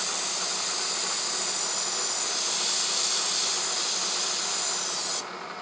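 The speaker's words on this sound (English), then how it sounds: "we're going to come in here and machine out these oil grooves and pockets. We're using a chamfer end mill that's carbide." A carbide chamfer end mill on a milling machine cuts oil grooves into a lathe gib, giving a steady loud hissing, rasping drone that holds evenly and then drops off abruptly near the end, with no voices.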